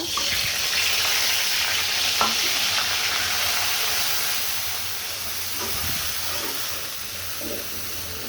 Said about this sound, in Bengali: এখন এই তেলের ভিতরেই আমি দিব পেঁয়াজ বাটা